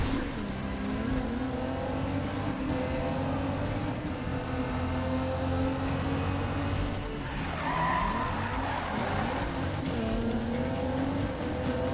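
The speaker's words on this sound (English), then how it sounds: "that was a beautiful drift" A race car drifts in a PS4 racing video game, its engine droning steadily while the tires skid and squeal in a long continuous slide, loud and close, with no talking.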